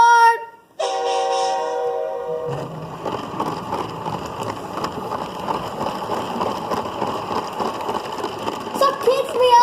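A LEGO City passenger toy train starts with a brief horn-like tone, then rolls along continuously with a rattling, whirring motor and clicking track noise, close by and fairly loud.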